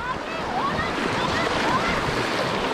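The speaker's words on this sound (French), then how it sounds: "En plus, il y a une chute d'eau." Rushing river water and a waterfall heard during a kayak trip from Montélimar to Avignon, a steady loud broadband roar with no breaks, alone with no voices.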